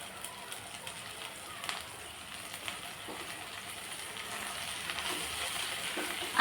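Leafy amaranth greens tipped into a hot pan with salt and oil, a soft steady sizzle and crackle that grows a little louder, with faint stirring.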